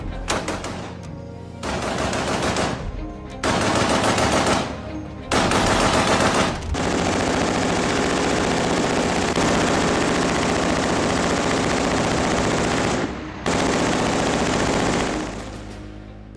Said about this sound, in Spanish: suelen contar con ametralladoras Browning alimentadas por cinta que pueden disparar 550 proyectiles por minuto